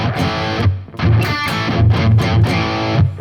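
A heavily distorted electric guitar played through the distortion channel of an R&R Amplification SL/LD preamp chugs and rings out in thick, gritty chords, loud and sustained with brief pauses between phrases.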